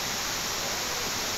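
Steady broadband rush of the largest waterfall in Rize, Turkey, a dense, continuous roar of falling water with no breaks, moderately loud and close.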